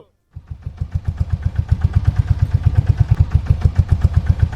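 A cartoon boat's engine in the Sundarbans coughs to life and settles into a loud, rapid, even putt-putt chugging that grows steadily stronger.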